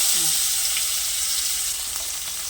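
Koi fish frying in a smoking-hot wok, a loud continuous hissing sizzle close by that stays even throughout, with a faint voice briefly at the start.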